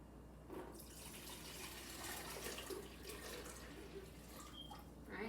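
Eight cups of water poured into a jug while making homemade horchata, a steady, close splashing stream with faint trickling that runs throughout without speech.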